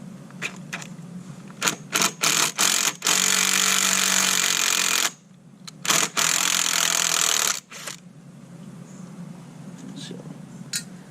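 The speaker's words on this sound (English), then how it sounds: "Let's see how these screws will screw in." A powered driver sinks screws into the hull of a Carolina Skiff 198 DLV to mount Bennett hydraulic trim tabs, with two long, loud whirring runs and several short choppy bursts in between.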